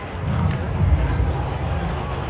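A pregame crowd murmurs and roars at the Tassie Devils' first ever home football game, a dense, steady wash of many voices near the microphone with a louder swell midway.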